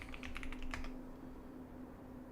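Computer keyboard typing, a quick burst of crisp key clicks for under a second, then stopping, over a low steady electrical hum.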